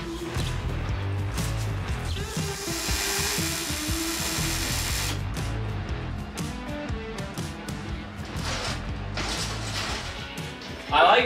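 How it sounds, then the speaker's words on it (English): A power tool sands a homemade wooden gas can rack, a loud, steady grinding whir that runs nearly the whole time with a brief surge at the end, while people talk over it. "let me sand them off"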